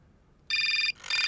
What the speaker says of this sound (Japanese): また電話です。